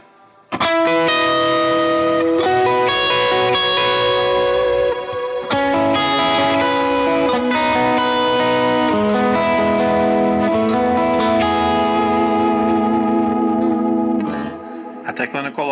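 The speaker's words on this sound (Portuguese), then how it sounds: "o segundo reverb é um cloud, que daí esse cloud, eu considero ele que é um reverb coringa" Guitar played through a Cloud reverb pedal on a pedalboard, sustained chords swelling into a wide, washy ambient tail, loud and continuous for about fourteen seconds before fading.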